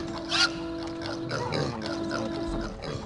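Pigs in the video game Warcraft Adventures: Lord of the Clans oink and grunt repeatedly in short, close bursts over steady game background music, with no talk.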